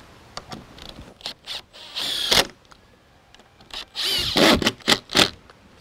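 A power driver fastens 3-inch timber screws into deck joist blocks in several whirring bursts, short ones first, then longer drives, close and fairly loud with no talking.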